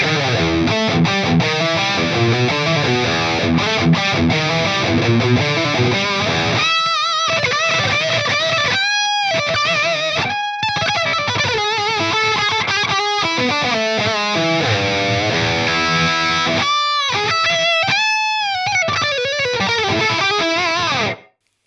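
Electric guitar played through a Fractal Audio mid boost drive model, a loud, continuous distorted tone with sustained chords and melodic lead lines, a few brief gaps between phrases, no talking.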